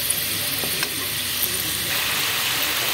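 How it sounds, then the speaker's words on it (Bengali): Vegetable croquettes filled with shrimp and potato fry gently in oil over a low gas flame, a steady soft sizzle with a few faint clicks. "যেহেতু অল্প এটা আস্তে আস্তে করে কম গ্যাসে এটা ভাজতে হবে"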